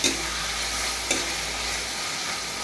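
Boal fish with tomato frying in a pan, a steady close hiss of hot oil with a couple of brief stirring scrapes, no voices.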